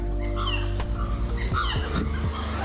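Birds calling from trees at a sunny Punta Cana spot in the Dominican Republic: several squawking, cawing calls of varied pitch come in short bursts at moderate distance over a steady low ambient hum.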